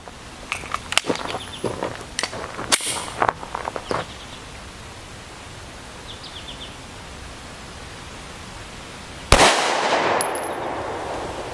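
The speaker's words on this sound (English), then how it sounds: "We'll still use the M&P for this shot." A Smith & Wesson M&P 9mm pistol fired at a Highcom Security Defender civilian armor plate: one loud, sharp gunshot near the end with a ringing tail, preceded by quiet handling clicks and outdoor hiss.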